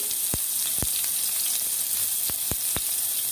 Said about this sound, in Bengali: আমি তেলের মধ্যে এগুলো খুব ভালোভাবে ভেজে নিব